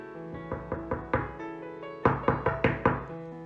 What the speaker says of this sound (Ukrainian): Хтось стукає у двері.